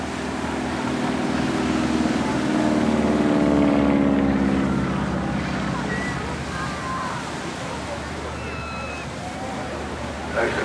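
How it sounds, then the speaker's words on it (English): A Stinson Reliant touring aircraft flies past at the English Riviera Airshow, its propeller engine droning steadily at mid-distance, swelling slightly mid-pass, with wind and surf-like noise and a voice talking throughout. "It's a neat little touring aircraft, actually"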